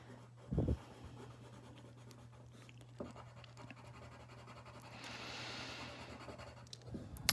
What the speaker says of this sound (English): I'm going to color this in darker